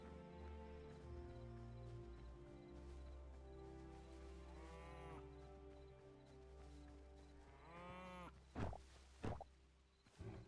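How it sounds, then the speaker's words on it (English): A baby cow in a video game lets out two drawn-out, wavering moos a few seconds apart, heard over a steady background hum, followed by a few soft thumps. "Now I have a baby cow."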